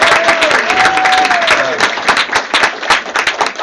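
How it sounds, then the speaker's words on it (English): Audience applause greets comedian and performer Tony Ortega at a live spoken-word show, a dense, steady patter of many hands clapping close by. A whistle rises early, and scattered cheers pulse through the sustained applause. "Give Tony Ortega a round of applause."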